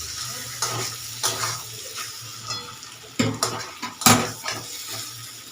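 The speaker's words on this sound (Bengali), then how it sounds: "চলুন ভালো করে কষিয়ে নিই।" Chicken with spices sautéed over low heat in a pan: a spatula scrapes and clanks against the pan in irregular strokes, with a soft sizzle running beneath, close and moderately loud.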